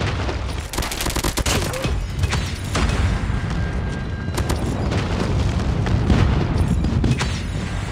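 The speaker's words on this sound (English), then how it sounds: "Airstrike incoming." A barrage of airstrike explosions in Call of Duty multiplayer, rapid heavy booms and crackling blasts rolling continuously at close range, with scattered gunfire in the mix.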